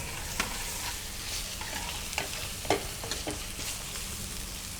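Ginger garlic paste and curry leaves frying in a pan give a steady soft sizzle, with occasional scrapes and clicks of a spoon stirring, fairly close and quiet.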